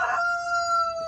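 Free-living rooster from a flock of Red Junglefowl Diego strain and Easter Eggers crows once, a clear sustained tonal call held about a second, close and alone.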